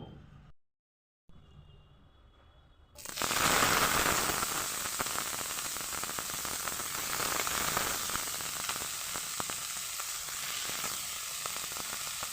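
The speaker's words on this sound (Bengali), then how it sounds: "বসিয়েছি সামান্য একটু তেল দিয়েছি গরম হতে চিংড়ি মাছগুলো আমি একটু ভেজে নিব" Shrimp frying in a little hot oil in a pan sets off a loud, steady sizzle that bursts in suddenly after a quieter stretch and keeps crackling evenly, close by and with no voices over it.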